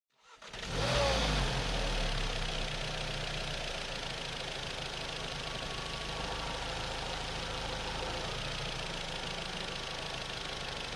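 A VW Polo GTI 6C engine fitted with a Racingline induction kit starts up and settles into a steady, close idle with a deep rumble and busy mechanical clatter, no voices over it.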